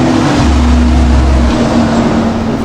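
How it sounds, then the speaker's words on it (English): A noisy truck rumbles past close by, a loud steady low drone filling the whole moment without any talk. "A noisy truck."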